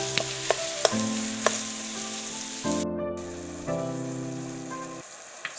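Ground meat for Nigerian meat pie filling browning in a frying pan, a steady close sizzle with a few sharp pops, under sustained musical tones.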